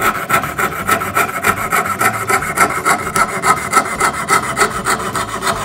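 A jigsaw cutting a small wooden board while making a wooden Christmas tree ornament, a steady rapid rasping buzz that continues without pause, close and loud, with no voices.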